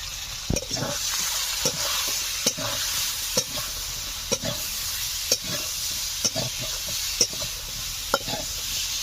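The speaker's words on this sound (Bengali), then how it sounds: "সমস্ত মশলা দিয়ে কিছু সময় ধরে ভালো করে আমি কষে নিয়েছি" Ground spices, among them turmeric, cumin, coriander and chili powder, being stirred and fried in a pan for a hilsa fish curry, with a low sizzle under regular scraping strokes of a spatula roughly every second.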